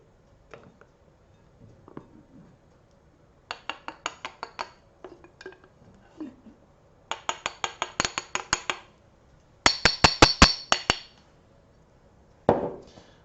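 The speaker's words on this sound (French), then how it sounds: "Alors on commence par vider le pot dans le saladier." Batter or dough emptied from a jar into a mixing bowl for cookies, heard as bursts of scraping and clinking of a spoon against glass and bowl, in several loud clusters separated by quiet gaps.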